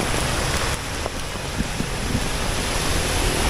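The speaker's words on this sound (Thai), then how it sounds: "ดูน้ำครับผม โอ้โห ไหลมาไวมากเลย" Fast-flowing floodwater during a storm in Sakon Nakhon, Thailand, as a loud, steady rushing wash of water with faint splashes, close by and continuous, with no talking.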